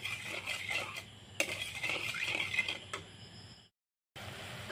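A spatula scrapes and clinks against a wok while sugar syrup is stirred for khurma, with irregular metallic scraping and tapping at low level that breaks off briefly near the end and then resumes.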